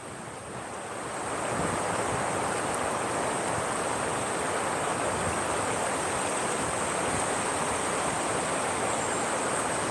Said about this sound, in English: can you hear the sound from the water up under the bridge or no?